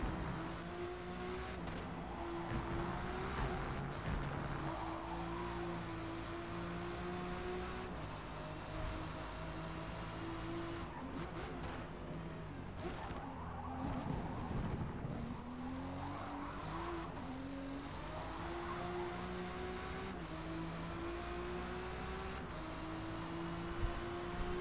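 A race car in the Forza Motorsport video game drives steadily, its engine note rising and falling through gear changes and braking, with tire squeal and skidding along the way, loud and continuous.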